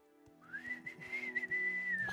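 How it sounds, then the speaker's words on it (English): A person whistles one sustained tone that slides upward and then holds steady for about two seconds, over a low background hum with a few soft knocks. "Stop whistling."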